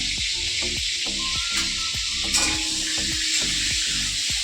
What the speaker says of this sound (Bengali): আর একদিকে চিংড়ি মাছ ছিল চিংড়ি মাছটা ভাজা করছে